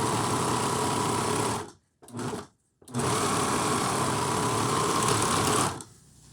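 A sewing machine stitches an exercise t-shirt fabric sweatband onto a hat, its fast motor whirring steadily, stopping briefly twice, resuming, then going quiet near the end.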